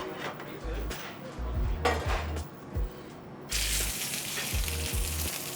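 A hot pan on a restaurant kitchen stove being handled for a quick sear of venison, with repeated bursts of sizzling and metallic scrapes and clunks, growing into a loud steady sizzle near the end.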